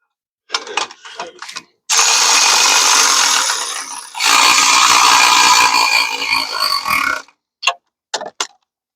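Two long bursts of ratcheting from a hand ratchet tightening exhaust header bolts on FLASHARK headers, close and loud, with short clicks before and after.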